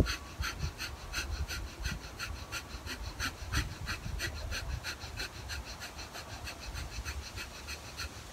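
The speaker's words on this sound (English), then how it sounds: "start that quick exhale through the nose" Rapid, forceful nasal exhales from yoga breathing practice, a steady rhythmic train of short sharp puffs, about two per second, close and continuous throughout.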